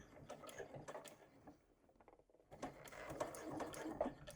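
A sewing machine stitching the base of a backpack at a quarter-inch seam, a close rapid mechanical chatter in short runs with a brief pause in the middle, quiet and alone.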